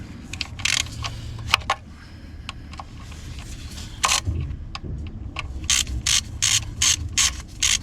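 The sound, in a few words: ratchet with Torx 30 loosening Audi S3 oil pan bolts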